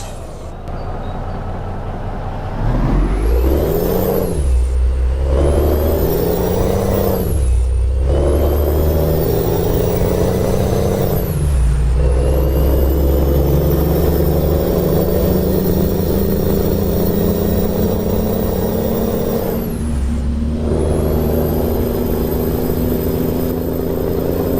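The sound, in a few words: Peterbilt 359 truck engine in video game Euro Truck Simulator 2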